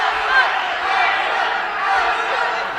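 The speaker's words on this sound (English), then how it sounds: "They're chanting all around us. This is the best crowd we've heard so far." A boxing arena crowd at an amateur tournament semifinal keeps up a dense, continuous roar that suggests chanting, with a commentator talking over it.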